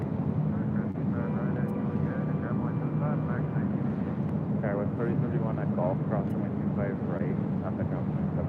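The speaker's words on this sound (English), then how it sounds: "Also just had the American 777-300ER touchdown on 25 left." American Airlines Boeing 777-300ER landing on runway 25L at LAX, a steady, broad jet roar that runs the whole time while people talk over it.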